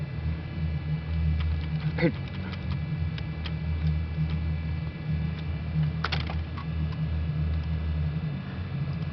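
Computer keyboard keys clicking as a password is typed on an old Pentium machine, light scattered taps over a steady low hum, with a couple of sharper clustered clicks.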